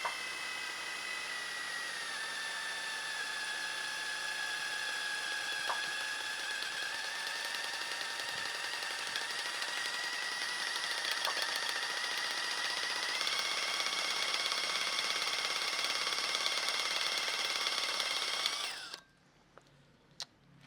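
A power drill whines steadily at high pitch for about eighteen seconds, slightly shifting in tone as it bites into a broken engine bolt, then stops abruptly.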